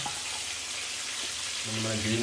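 Marinated tandoori chicken frying in a pan gives a steady, close hiss of sizzling oil, growing louder and more crackly toward the end, with no talking.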